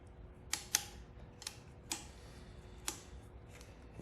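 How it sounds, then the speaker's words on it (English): Sharp, separate clicks from a torque wrench tightening bolts on a 2021 Kawasaki KX250F dirt bike, about six quiet snaps spaced unevenly over a faint background hush, nearby and with no talking. "We'll get the torque wrench out and snug these up in a moment"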